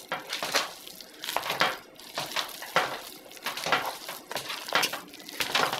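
Potatoes are mashed in a pot with rhythmic squelching presses and scraping clanks of the masher against metal, repeating roughly every half second, close and fairly loud.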